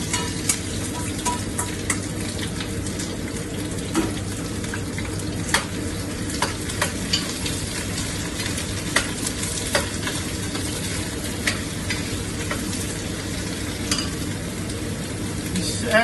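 Around six or seven square-cut onions sizzle and fry in a pan with a steady crackle, stirred now and then with faint utensil clicks, close and continuous with no talking.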